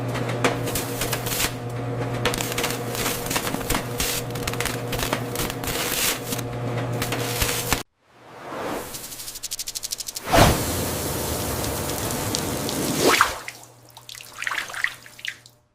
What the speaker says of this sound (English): the raw cactus is thoroughly washed with high-pressure,